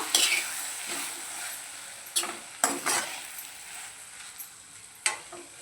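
A spatula stirs onion-coconut paste into a Malvani-style small brinjal curry in a pan, with close, repeated scraping strokes and knocks over a soft sizzle, sounding in uneven bursts.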